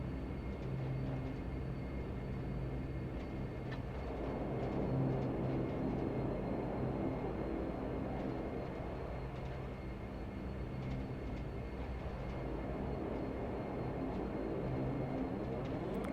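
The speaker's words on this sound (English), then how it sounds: "The Dash is a very, very hard aircraft to taxi." Majestic Dash 8 Q400 turboprop taxiing in the FSX flight simulator, heard as a continuous deep engine drone that holds steady throughout, with no voices.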